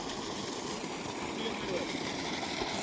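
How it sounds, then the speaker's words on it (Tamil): An irrigation pump set runs in a village field in Tamil Nadu, giving a faint, steady engine drone with a slight throb that continues unbroken through the short stretch. "அந்த பம்பு செட்டு தமிழ்நாடு அந்த பம்பு செட்டு அடிக்குதான்னு சொல்கிறேன்"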